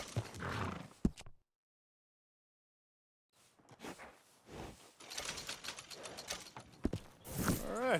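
A workhorse in Red Dead Redemption 2 makes a short neigh amid creaking tack and clip-clopping hooves, followed by a stretch of silence and then louder horse movement and mechanical creaks.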